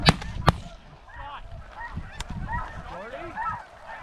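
Snow geese honk in a flock over an Alberta hunting field, with many overlapping calls near and far, broken by two sharp loud bangs at the start.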